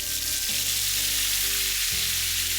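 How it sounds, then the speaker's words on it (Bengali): A yogurt and spice mixture is poured into hot oil for a gurda biryani dish, setting off a loud, steady sizzle that holds for the whole moment without any voice. "দই এবং মশলার যে মিক্সিংটা রেডি করে রেখেছিলাম ঢেলে দিচ্ছি"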